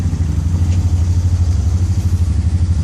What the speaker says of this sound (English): Let it idle for a little bit.